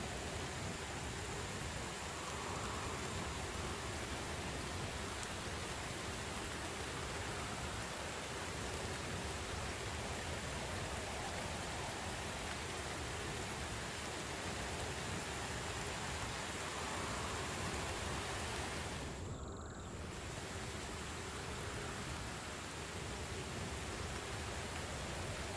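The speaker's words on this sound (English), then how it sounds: "my guy's soaking right now because it's raining" Steady, soft hiss of rain pouring in the survival video game Dead Mist, unbroken for the whole stretch with no talking.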